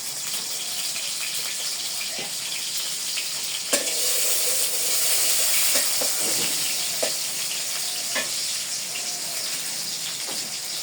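Chopped onions frying in oil for an okra dish, a steady close sizzle with occasional clicks and stirring taps, a louder hiss swelling midway.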